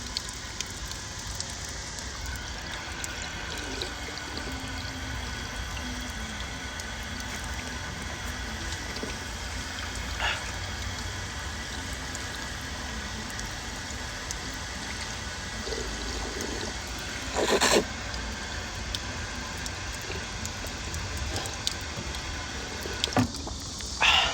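Tap water runs steadily at an outdoor spot during a run in South Korea, a constant rushing hiss that lasts throughout with a couple of brief knocks.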